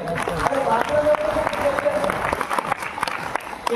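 An indoor audience at a Bengali sales meeting claps in a loose burst of applause, fairly loud and near, while a voice keeps talking over it.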